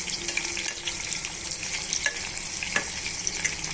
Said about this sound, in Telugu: ఉల్లిపాయ ముక్కలు పచ్చిమిరపకాయ ముక్కలు బిర్యానీ ఆకులు కొంచెం అటు ఇటుగా వేగనివ్వాలండి బ్రౌన్ కలర్ వచ్చేదాకా వేగనివ్వాలి